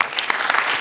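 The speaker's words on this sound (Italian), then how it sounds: "di ringraziare intanto con un applauso" An audience at a film masterclass applauds the director Jonas Carpignano at the close of the event. The clapping is brief, loud and dense, with many hands at once.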